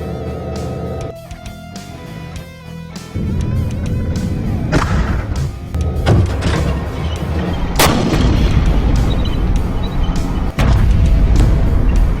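Tank main guns fire at targets 1000 m away during live-fire training, heavy booming blasts with sharp reports around the middle and near the end over steady engine rumble and clatter.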